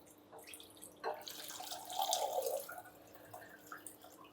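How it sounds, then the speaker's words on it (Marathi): Soaked kurdai are drained of their water in a kitchen: a brief tap-like run and splashing of water pouring out, building in the middle and then tapering to a few soft drips, with no talk. "आता ह्याच्यातलं सगळं पाणी काढून टाकायचं आहे."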